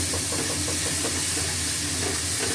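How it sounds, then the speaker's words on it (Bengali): Spices fry in a pan with a continuous, close, dense sizzle and hiss, steady throughout with faint stirring underneath and no talking. "মশলা কষানো হচ্ছে"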